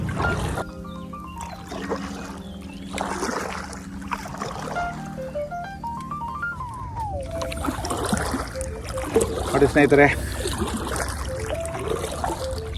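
A small wooden boat is worked with a hand paddle on the water near Kudru, Kemmannu in Udupi, giving soft trickling, dribbling splashes beneath steady tonal music, with a brief voice at the start.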